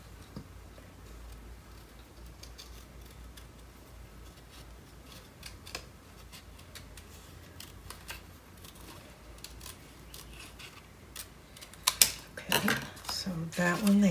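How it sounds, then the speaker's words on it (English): Faint, intermittent snips and small ticks of scissors cutting paper pieces for a Christmas mini album, growing louder and busier toward the end with handling rustle. "I think I'm going to cut this one here."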